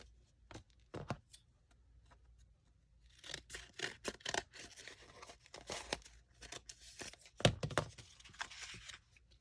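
Scissors cut a paper flower petal template, making soft, close snips and paper rustling in irregular bursts, with quiet gaps between them.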